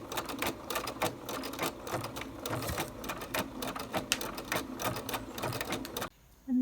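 Sewing machine pin stitching lace onto a rolled and whipped hem, a close rhythmic clatter of rapid stitches continuing steadily before stopping near the end.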